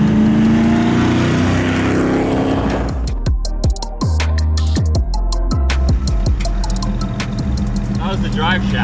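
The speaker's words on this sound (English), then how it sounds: "You ready to do a burnout?" Cammed 454 big block Chevy in a small OBS pickup doing a burnout, a loud lumpy idle climbing into hard revving with choppy bursts as the tires spin, close and dominant.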